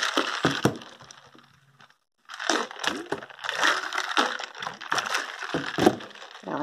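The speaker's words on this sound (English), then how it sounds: "I'm going to put the lid on the container and kind of mix it around" A lidded container of homemade lemonade is shaken and swirled to mix it. Crackly rattling and sloshing bursts come close up, broken by a brief pause of near silence.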